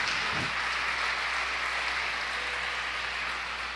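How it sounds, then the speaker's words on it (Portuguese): A church congregation applauds for the Lord during a Portuguese-language worship program, a steady, dense wash of clapping from many hands that fills the whole moment without voices. "Dê uma salva de palmas para o Senhor"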